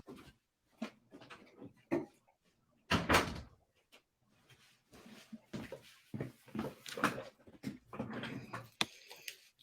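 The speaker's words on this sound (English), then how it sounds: "Let me just close the door." A door closes with a sharp thud, one of several loud knocks and bumps amid quiet room noise, with a little movement around it.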